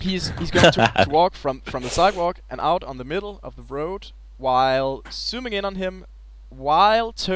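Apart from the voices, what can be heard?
None of the usual background noises is heard.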